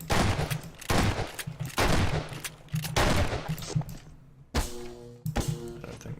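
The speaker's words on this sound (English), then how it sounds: "the whole point of Half-Life 2 Deathmatch is that you can shoot the boxes" Rapid gunfire in Half-Life 2 Deathmatch as boxes are shot: loud bursts of repeated shots come in quick clusters, with hollow thunks of wood breaking between them.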